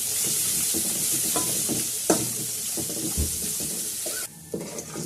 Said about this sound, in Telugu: ఇందులో నీట్గా కడిగి పెట్టుకున్న బీరకాయ పొట్టు వేసుకొని ఫ్రై చేసుకుందాం.